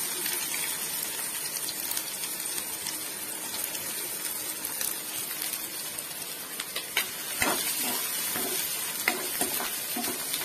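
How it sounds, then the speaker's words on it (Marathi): Curry leaves and chopped onion sizzle steadily in hot oil for a dry prawn and potato dish, a continuous crackling frying hiss with a few sharper pops and stirring sounds toward the end, with no talking. "गरम तेलात कढीपत्ता टाकून घेऊया आणि हा चिरलेला कांदा।"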